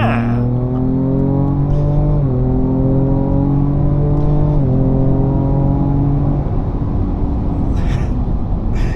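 A 2024 Ford Ranger Raptor with a 3.0L V6 accelerating hard, heard from inside: engine pitch climbs steadily, drops at two gear shifts, then climbs again, loud and sustained with road roar underneath.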